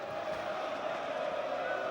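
A football stadium crowd roars in a steady, dense wash of cheering and noise from the Kop end during a Boston United versus Rochdale match, continuous and fairly distant.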